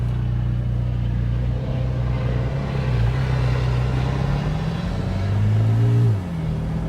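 A Porsche 718 Spyder engine fitted with BMC filters drones and climbs in pitch as it revs, rising steadily before dropping off near the end, with a thick rumbling roar throughout.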